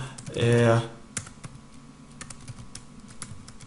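Keys on a computer keyboard tapped in short, scattered clicks, faint and intermittent after a brief burst of speech at the start.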